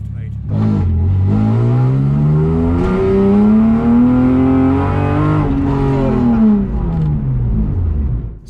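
A BMW E36 fitted with an M62B44 V8 engine revs hard while driving, its loud engine note climbing and falling through the gears from inside the car, with people talking over it.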